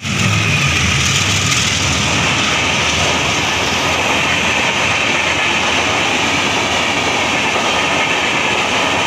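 Passenger train rolling through rural Dhubri, Assam, heard from inside a nearly empty carriage: a steady, loud broadband rumble and hiss with faint rhythmic clatter running continuously throughout.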